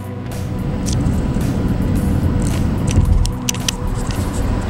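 A car carries riders through Las Vegas toward an Irish pub, its steady road and engine rumble filling the cabin continuously at a moderate, even level with faint higher rattles and no one talking.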